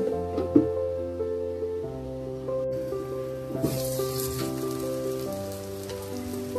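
Masala for prawn malai curry fries in a covered pan, a continuous rain-like crackling sizzle close by with steady sustained musical tones playing over it and no talking.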